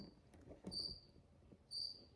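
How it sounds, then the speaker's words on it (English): Crickets chirp in two bright, sustained bursts about a second apart, clear over a quiet low background rumble. "Can you hear the crickets?"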